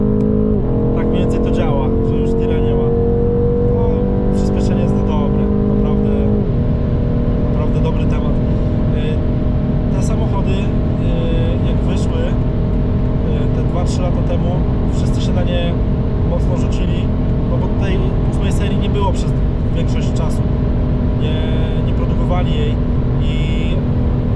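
A limited-edition BMW tuned to 770 horsepower accelerates hard alongside passing trucks, its engine note rising loudly at first and then holding a steady, powerful roar with road noise, while people talk throughout.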